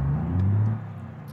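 A Gavril T-Series cab-over truck engine in BeamNG, a brief low humming drone that rises slightly, then drops off into a quieter rumble within about a second, heard alone.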